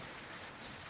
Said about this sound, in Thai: ฝนก็มาแล้วพี่น้องเอ้ย